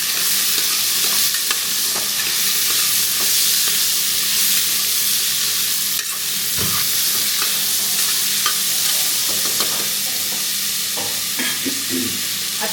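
Mustard seeds and cumin crackle in very hot oil as chopped onion sizzles, a steady dense hiss with scattered pops and occasional stirring scrapes, close and continuous with no voices.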